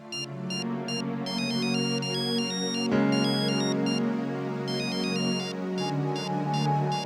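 A telephone rings late at night in a home, a bright electronic ringtone repeating in steady bursts over a soft musical background, loud and close.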